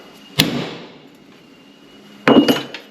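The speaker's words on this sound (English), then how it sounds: "But you center it on your gap in the vise, and then freaking smack it." Two sharp hammer blows on a metal piece centered over the gap in a vise, each a bright ringing crack with a short decay. The second strike lands with a quick follow-up tap, and there is quiet in between.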